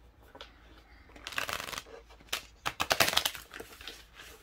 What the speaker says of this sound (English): Let's learn how to shuffle.